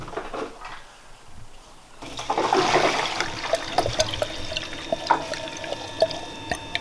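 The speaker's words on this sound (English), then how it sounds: "you can hear the pump running or buzzing away" Coolant gurgles and trickles through tubing while a faint electric water pump hums and whines underneath on a turbo Mazda Miata, running continuously after a quieter start.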